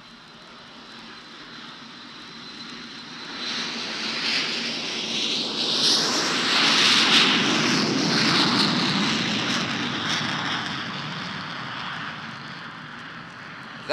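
A Caravelle jet airliner powered by Rolls-Royce engines passes overhead, its whining, roaring engine noise building gradually from faint to a loud peak around the middle, then slowly fading away.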